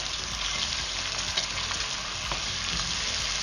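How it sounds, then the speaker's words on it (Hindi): Chicken and yogurt simmer in a cooking pot for white chicken handi while being stirred. A steady, close sizzle holds throughout, with faint scraping and soft clinks from the stirring. "और इसको अच्छे से मिक्स कर लेंगे।"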